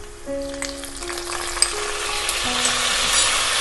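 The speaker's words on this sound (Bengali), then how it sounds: "খুব ভালোভাবে আদা বাটা এবং টমেটো বাটাটা তেলের সঙ্গে ভেজে নিতে হবে" Ginger paste and tomato paste fry in hot oil for a Bengali potato curry (alur dum), giving a steady, close sizzle that slowly grows louder, with a few faint tones and clinks from stirring and no talk.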